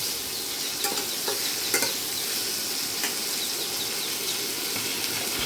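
Chopped onions fry with salt in a pan for a Bengali white amaranth stem ghonto, a steady close sizzle broken by a few soft scraping stirs, with no voices.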